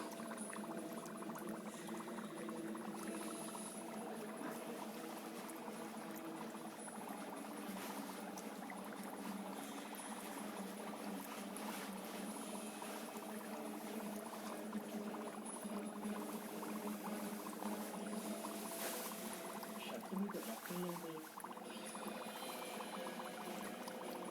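Dry ice bubbles and fizzes in water, a steady, faint, continuous seething with no talk.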